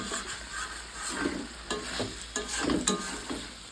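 Meat stirred and fried kosha-style in a pan, a steady sizzle broken by repeated scraping stirs of the spatula, close and fairly loud with no talking.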